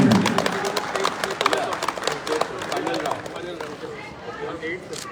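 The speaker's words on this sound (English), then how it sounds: "A round of applause for them once again, ladies and gentlemen" An audience at a college quiz prize distribution in Agartala claps in a steady, moderately loud round of applause, with voices and crowd murmur mixed in throughout.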